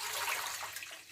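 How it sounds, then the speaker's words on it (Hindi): Two cups of water are poured into a cooking pot, a steady soft splashing rush heard close and alone throughout. "तो सबसे पहले हम पानी ऐड करते हैं।"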